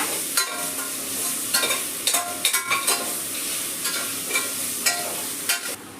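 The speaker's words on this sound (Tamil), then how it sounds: "ஒரு லைட்டாக கிண்டாதீங்க, நல்லா கிண்டிக்கணும்" A spoon scrapes and stirs food in a hot pan in repeated bursts, with a steady frying sizzle underneath and no talking.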